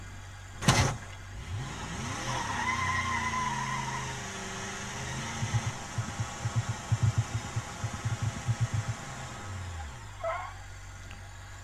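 In a video game, a car engine revs and drives, then a rapid series of rhythmic clunks as its wheels roll over wooden planks, followed by a short thud near the end.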